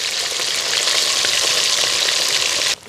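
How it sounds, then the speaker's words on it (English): Fish fries in a pot of hot oil with a loud, dense, continuous sizzle up close, cutting off abruptly just before the end, with no talking. "So we're done with the fish frying"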